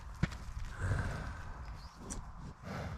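Horses moving about on a New Zealand farm during stock work, with soft hoof thuds and clip-clop steps close by over steady outdoor ambience, and a brief sharp knock near the start.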